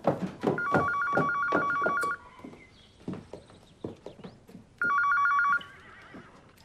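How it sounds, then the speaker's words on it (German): An old-style telephone bell rings indoors in two loud bursts, a long ring followed after a pause by a shorter one, with clip-clop-like knocking sounds and rustling between the rings. "Telefon!"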